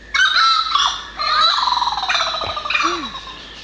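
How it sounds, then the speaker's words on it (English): Several rooster-like birds in a rainforest make loud, harsh gobbling calls in repeated bursts, with short pauses between the calling bouts and one low call near the end. "it's those stupid rooster birds"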